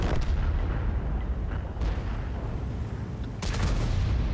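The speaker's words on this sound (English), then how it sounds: "big anti-tank gun versus tissue armor, and it doesn't penetrate." A big anti-tank gun firing in the World of Tanks video game, heavy booming blasts over a constant rumbling battle din, with two sharper loud shots standing out, one early and one near the end.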